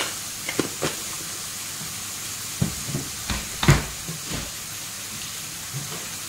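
Boneless chicken stirred with turmeric and salt in a pan for a home-style chicken fry: a few scattered soft scrapes and clinks over a low, steady sizzle, with no talking.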